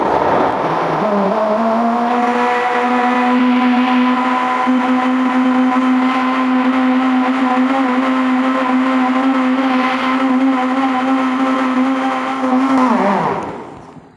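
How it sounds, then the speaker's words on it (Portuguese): Kitchen blender running for about thirteen seconds, mixing carrot, egg and oil into cake batter; a steady, loud motor whine with a rising start and a falling spin-down at the end. "já bati tudo no liquidificador"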